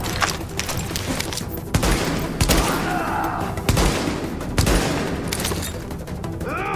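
Gunfire in a firefight in the video game The Division: repeated bursts of automatic and single shots crack out over a dense, noisy battle background, with several sharper loud reports spaced a second or so apart.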